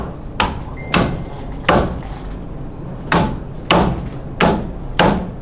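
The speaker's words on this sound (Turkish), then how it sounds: "Şimdi kesiyorum. Şu pirzola." A knife chops through a rib chop of Denizli kebab meat on a board, seven sharp, heavy strikes landing close and loud at a roughly even pace with short gaps between them.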